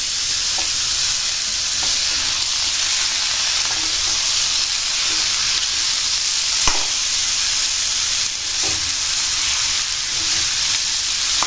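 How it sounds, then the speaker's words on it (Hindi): Masala with bottle gourd and potato frying in a pan, a steady loud sizzle and hiss with faint occasional stirring clicks, close up and without talk. "इसको अच्छे से भून लेते हैं"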